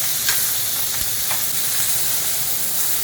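Beef brisket sears in a hot pan, a continuous close sizzle and hiss with a few faint pops and shifts.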